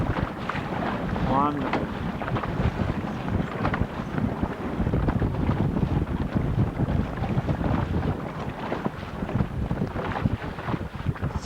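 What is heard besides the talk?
blustery wind on open water from a boat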